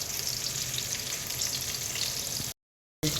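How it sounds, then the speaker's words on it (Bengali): Fish fries in a wok (kadai) with a dense, constant close sizzle that cuts out completely for about half a second and then resumes; no voices. "মাছ ভাজা হচ্ছে কড়াই"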